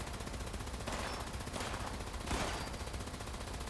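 Rapid gunfire in the online game Fallout 76 during an event battle with mobs, a dense continuous barrage of shots with louder bursts layered over it, steady and close throughout.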